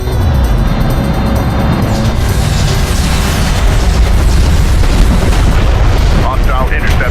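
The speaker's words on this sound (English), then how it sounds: "Enemy airstrike inbound." Airstrike explosions in the real-time strategy game Homeworld: Deserts of Kharak, a dense, continuous roar of booming blasts and rumbling impacts filling the whole stretch, loud and close with battle noise layered throughout.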